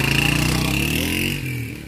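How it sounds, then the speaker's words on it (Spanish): A motorcycle engine that will not start gives a short, rattling buzz, then sputters and drops away after about a second and a half. "¿Por qué ese motor no prende?"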